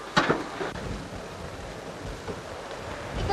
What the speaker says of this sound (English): Is it always windy like this out here?